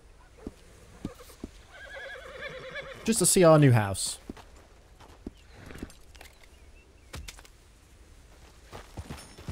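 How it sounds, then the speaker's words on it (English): A horse in the video game Red Dead Redemption 2 whinnies loudly and its hooves clip-clop at a run, with someone talking close by before and after. "we're gonna stim our horse and we are gonna rush here"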